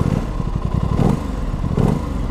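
A 2021 Aprilia RS660 middleweight sport bike engine fires up and idles close by, a loud, steady, lumpy rumble with a couple of brief swells in level.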